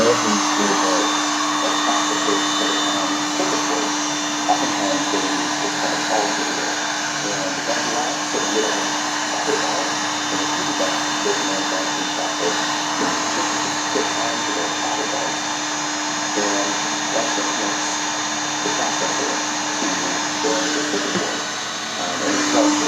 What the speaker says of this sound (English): So I'm heating the heat gun.